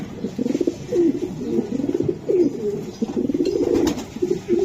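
Racing pigeons coo close by in repeated throaty, rolling phrases, several birds overlapping in a steady, fairly loud murmur with no talking.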